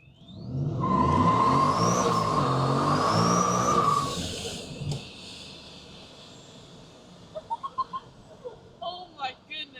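A supercharged Coyote-engined Ford F-150 pulls hard from inside the cab, a loud rising whine that climbs for a few seconds, then fades out as people talk and exclaim.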